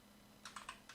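Several quick keystrokes on a computer keyboard, soft and close, clicking in a brief irregular burst over a faint steady hum.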